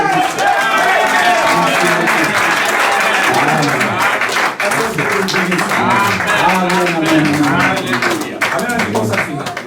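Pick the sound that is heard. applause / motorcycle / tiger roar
applause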